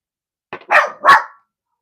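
Two or three sharp dog barks in quick succession, close and fairly loud, after a short pause of silence, with no talking over them.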